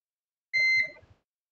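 One short, high electronic continuity beep from a multimeter on an Acer E5-573G laptop board sounds alone, followed by a few faint clicks.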